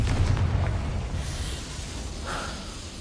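A Confringo spell explosion in Hogwarts Legacy lands as a deep, booming blast right at the start, then rumbles and fades away over a couple of seconds with faint fizzing tails.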